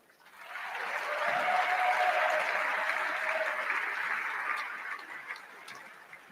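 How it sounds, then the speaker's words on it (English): Crowd applause at a university celebration of a men's hockey team's first national championship, a broad wash of clapping that swells quickly, holds steady and then tapers off, heard from a slight distance. "Give them a round of applause."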